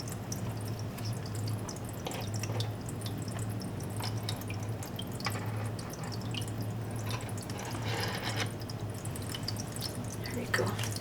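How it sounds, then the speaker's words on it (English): Plant pots are lowered into aquarium water to soak, with faint splashes and trickling drips over a steady low hum. "I'm gonna put them in my aquarium to soak for a few."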